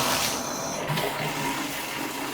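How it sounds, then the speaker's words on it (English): Shower running in a luxury apartment unit, a steady hissing rush of water spray that stays even and continuous throughout. "I'm gonna turn on the shower. Make sure that there's water pressure."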